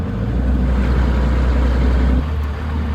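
A Cummins diesel truck fitted with big injectors drones under throttle with a deep, loud, steady low rumble, then the note drops abruptly as the engine lets off; there is no talk over it.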